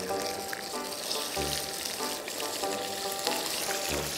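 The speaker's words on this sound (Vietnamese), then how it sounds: "Mà không biết chiên nó văng dữ lắm luôn." Fish frying in plenty of oil sizzles and spatters loudly up close, with bursts of crackling and popping over a steady hiss, outdoors on an island.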